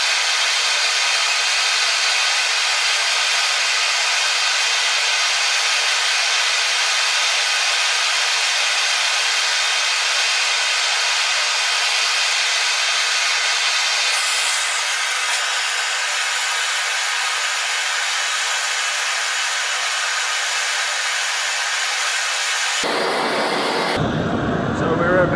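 A torch hisses steadily and loudly, heating the heel of a Joseph Wilkinson anvil before welding; the broad roar holds for over twenty seconds, then cuts off abruptly near the end.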